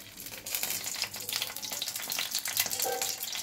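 Dried red chillies crackling and sizzling in hot mustard oil while making a Bengali grated amla pickle, a close, bright, continuous fizz with spattering pops that grows busier after the first half-second.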